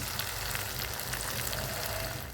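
Chopped tomato hits chicken frying in a pan for a spicy chicken kosha, raising a dense, even sizzle that carries steadily and close with no talk over it.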